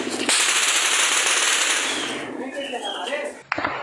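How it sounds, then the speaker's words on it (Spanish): A rapid burst of gunfire crackles loudly for a few seconds, then fades, followed by a sharp single report at the end. "agáchense porque aquí están pegando los tiros"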